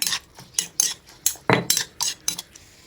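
A utensil tosses Thai papaya salad with ready-made dressing in a bowl, giving a close series of about ten sharp clinks and scrapes in an uneven rhythm, one heavier knock midway.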